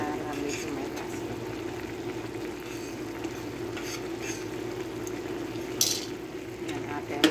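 Food stirred in a cooking pot, a steady low bubbling and scraping bed with soft sizzle throughout and a few brief clinks near the end, under faint background voices.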